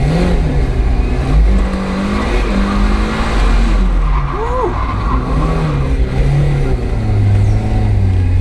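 A budget first-generation Mazda MX-5 drifting on a slippery track, its engine loud and revving up and down with tyre squeal, close and continuous throughout.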